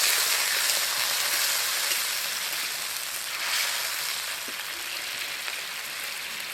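Water poured into a pan of frying drumstick vegetable makes a loud, steady hiss and sizzle that carries on without a break and eases slightly toward the end.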